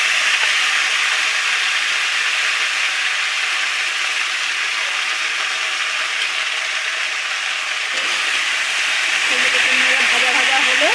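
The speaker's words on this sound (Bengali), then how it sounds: "দেখো সবজি দিচ্ছি।" Vegetables added to a kadai of reddened fried onions hiss and sizzle loudly and continuously up close, with a rise in the sizzle toward the end.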